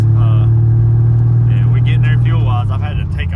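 A Toyota Supra's engine drones with a steady low hum while driving up the road, a constant close rumble inside the car with someone talking over it throughout.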